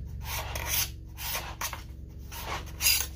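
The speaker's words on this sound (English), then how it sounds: "I heard this tip to use the card scraper" A steel card scraper is drawn in repeated strokes across walnut to lift cured epoxy, making close, rasping scrapes with brief pauses between passes and no talk.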